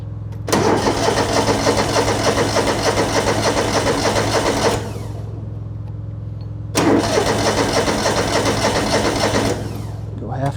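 An old car engine, set with the choke, is cranked over in two long bursts of about four seconds each with a short pause between them. The cranking is loud and close, and a steady low hum carries on underneath.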